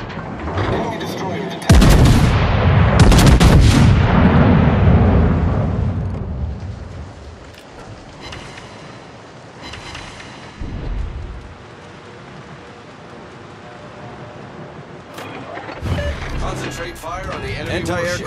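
Heavy battleship guns of the Thunderer boom in a deep, rumbling salvo during a World of Warships naval battle, followed by decaying echoes and further distant blasts, with radio-style voice callouts over the action.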